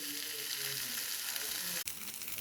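Chopped vegetables and nuts fry in a pan for chira pulao, a steady close hiss and sizzle with a brief clatter of stirring near the end.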